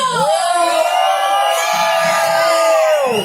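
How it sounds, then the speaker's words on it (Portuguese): An excited audience at a talk with voice actors cheers and shouts, with loud sustained whooping and a high held yell over the noisy, lively crowd. "quem tá animado pra esse momento faz barulho?"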